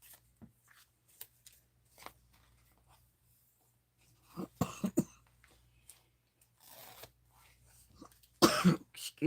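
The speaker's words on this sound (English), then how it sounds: "Excuse my cough." A couple of close, loud coughs break out after several seconds of quiet handling noises, with a harsher burst near the end.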